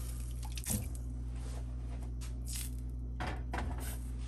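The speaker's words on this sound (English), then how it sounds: "I'll just let some water soak in there." Water from a kitchen sink tap running into a pan being left to soak, a soft steady trickle with a few brief splashes and clinks, quiet and close.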